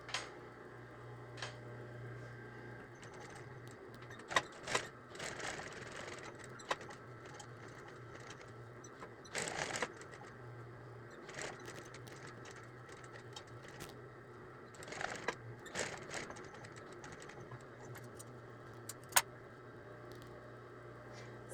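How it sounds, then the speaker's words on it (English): A sewing machine stitches around the curved edge of a flamingo hooded towel, quiet whirring runs broken by short pauses and occasional clicks, fairly faint. "I want to stitch as close to the edge as I can all the way around the curved sections"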